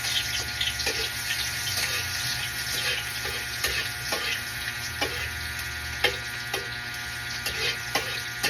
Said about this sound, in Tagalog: maglagay na tayo ng sibuyas at bawang sa fry pan natin